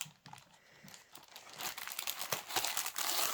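Plastic packaging of a Merejka or Magic Needle cross-stitch kit with DMC threads crinkles and rustles as it is opened by hand, soft at first and growing louder and denser.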